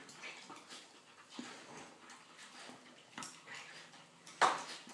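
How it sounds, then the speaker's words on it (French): A hungry bull terrier eats noisily from a dish, with faint, irregular chomping and licking sounds and a sharper clink of the bowl near the end, close and quiet with no talking. "Ça, c'est un chien avec de l'appétit."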